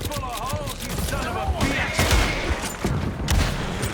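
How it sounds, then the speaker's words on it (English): Gunshots in Red Dead Online, a quick volley of shots and booms over a few seconds, close and loud, with talking over the top. "Stop shooting their hats off."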